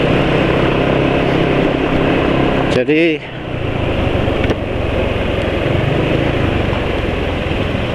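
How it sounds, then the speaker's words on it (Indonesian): A motorcycle engine running rough on worn oil before an oil change runs steadily with a rough, buzzing drone; a brief spoken word and a short pause in the noise occur near the middle. "Tuh suara mesin sudah lalak gitu ya, sudah kasar."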